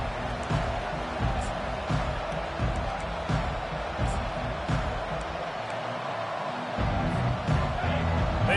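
A football stadium crowd roars in a steady, loud, wide wash of cheering and shouting that holds its level throughout, with scattered thumps and claps inside the din.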